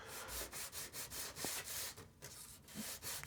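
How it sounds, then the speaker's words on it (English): Sandpaper rubs over a wooden stringer from an HO scale Walthers timber trestle kit in quick, even back-and-forth strokes, close and clear with no talking. "So what I'm doing here is I'm just using a sandpaper to"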